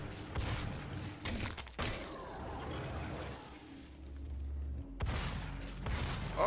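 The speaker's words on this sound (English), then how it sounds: "Explosion!" Repeated explosions and heavy gunfire from the video game DOOM, with booming blasts and thuds in dense bursts, one loud burst opening and another near the end, over a steady rumble of game noise.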